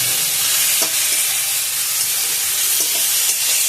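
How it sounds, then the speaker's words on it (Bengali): Spices for an egg curry fry in hot oil with a steady loud sizzle and hiss, while a utensil scrapes and stirs the pan in a few soft strokes. "এবার এটা ভালো করে একটু কষাবো তারপরে জল দিয়ে দেবো"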